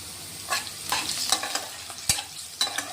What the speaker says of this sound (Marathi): तेलातच हिंग टाकतोय आपण.